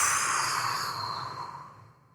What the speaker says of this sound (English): And now powerfully exhale.